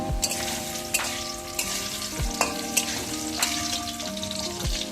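Potatoes frying in a pan, a steady close sizzle with occasional scraping stirs and clinks of a utensil, no voices.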